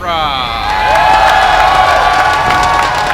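A packed crowd at a StarCraft 2 tournament event at SXSW cheers, whoops and claps loudly, a dense sustained roar of many voices with shouts rising and holding throughout.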